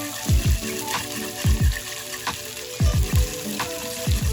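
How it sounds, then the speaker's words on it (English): Salad dressing with mustard whisked in a bowl for a steak and spinach salad, heard as rhythmic wet sloshing strokes that come in paired bursts over a steady background hiss. "Whisking this dressing together with that mustard included will cause it to emulsify"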